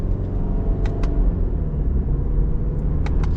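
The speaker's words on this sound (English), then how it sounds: "Let's get our little acceleration here with the Forester." A 2021 Subaru Forester Touring accelerates in a mild pull, heard from inside as a steady, loud low engine and road rumble with a few brief faint clicks.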